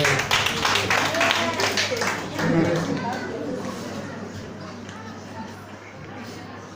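A church congregation claps in a quick, uneven run of hand claps that fades after a few seconds, while a voice speaks and murmured chatter continues.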